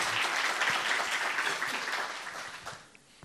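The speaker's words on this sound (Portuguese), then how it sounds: "Milton Ratum, para quem eu peço uma salva de palmas" Audience applauds a writer at a talk event at Sesc Vila Mariana: dense, sustained clapping from a crowd that gradually thins and fades out near the end.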